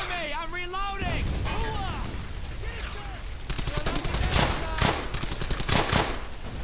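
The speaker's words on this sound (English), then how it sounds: "No one's moving under that kind of fire." Gunfire in the WWII video game Brothers In Arms: Hell's Highway, with dense bursts of rapid shots and heavy firing building in the second half, mixed with game voices and chatter.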